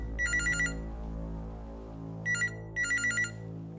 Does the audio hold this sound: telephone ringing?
yes